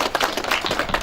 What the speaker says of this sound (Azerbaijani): İcazə verirsinizsə, alqışlayaq